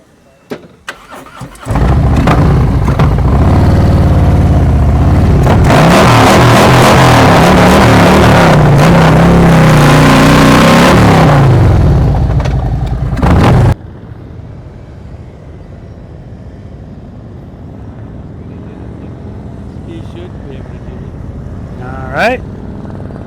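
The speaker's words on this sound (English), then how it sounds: "now I'm gonna be doing some extra revving" A motorcycle engine cranks, catches and roars loudly, revving up and down for several seconds before cutting back to a low idle rumble, with faint voices, during a slow-speed riding practice session in Texas.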